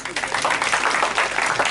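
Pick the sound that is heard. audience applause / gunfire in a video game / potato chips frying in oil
audience applause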